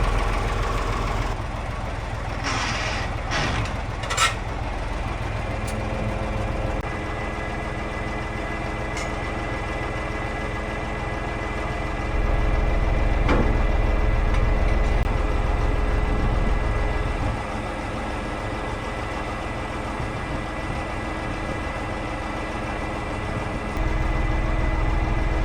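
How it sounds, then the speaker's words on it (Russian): A YaMZ-236 diesel engine on a MAZ KS-3571-1 truck crane runs steadily at a low, rumbling idle, with a few sharp clicks near the start and a brief rise in intensity midway. "То, как запускается ЯМЗ 236, не сравнится ни с одним СССРовским мотором."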